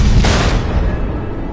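Missile explosions in Batman: The Enemy Within give a loud, sustained roaring blast with heavy low rumble and a brief sharper burst near the start, filling the whole moment without speech.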